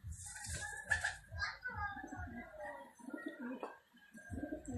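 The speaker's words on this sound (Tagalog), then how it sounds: "ang gaganda ng mga kalapati ni Boss Bersa" Pigeons at a racing loft, with bird calls and soft cooing sounds repeating over low rumbling background noise, close and moderately loud, with no clear talk.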